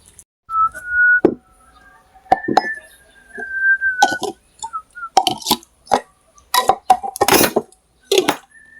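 Dishes clinking and clattering while being washed by hand at a home sink, with sharp irregular clinks of plates, glasses and cutlery, a few whistled tones early on, and close, busy bursts of clatter toward the end.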